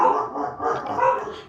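Dogs bark and yip in short, uneven bursts, close by and moderately loud, with no talk over them.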